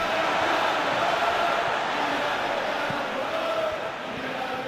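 A stadium crowd in a PES football video game cheers in a steady, dense roar that fills the whole stretch and eases slightly toward the end, with no commentary over it.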